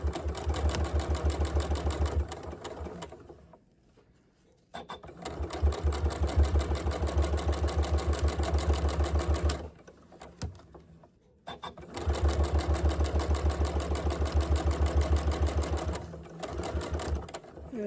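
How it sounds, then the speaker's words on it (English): A sewing machine runs in steady rapid bursts while stitching a scrap-fabric zipper pouch, stopping briefly twice between long runs of even mechanical clatter, close and clear with no talk. "We're going to sew and make sure we backstitch."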